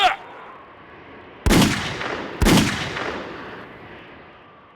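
Two sharp, loud gunshots from a firing squad execution ring out about a second apart, each followed by a long fading echo, after a brief shouted command at the start.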